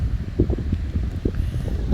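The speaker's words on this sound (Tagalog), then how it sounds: "pero malakas lang talaga ang hagupit ng hangin" Steady typhoon wind gusts roar close to the microphone in a mountain area, with low rumbling buffets and a faint rustle throughout.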